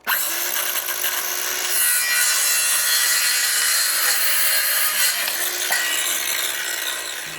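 A handsaw cuts through a wooden board for a top piece in a garage, with a steady run of rasping back-and-forth strokes, close and loud, and no talking.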